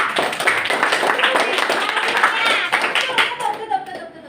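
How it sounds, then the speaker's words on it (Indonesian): A school class claps for a student group in a classroom, with dense, lively hand clapping that carries on for several seconds before tapering off, with voices mixed in. "Beri aplaus untuk kelompok 3."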